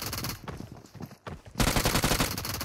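Rapid automatic gunfire in PUBG Mobile, a dense burst of shots that pauses briefly and then resumes louder and sustained until the end, with no talk over it.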